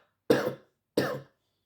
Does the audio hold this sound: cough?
yes